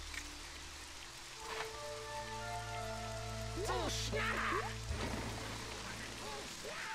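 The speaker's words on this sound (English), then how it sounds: "but it's raining" Steady rain in the handheld video game The Sims 2 (DS), a soft even hiss lasting the whole span beneath sustained tonal game music, with a short voice-like passage near the middle.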